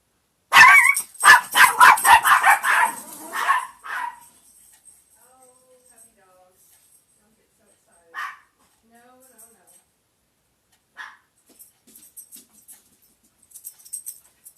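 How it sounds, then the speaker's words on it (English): Puppies barking indoors, a quick burst of sharp, close yips and barks for a few seconds, then quiet with a few faint stray yaps later. "puppy dogs thought I was hurrying off to do or I guess get something, and they started barking"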